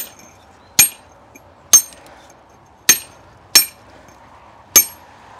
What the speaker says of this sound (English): you can just go with your nicking chisel and cut down the sides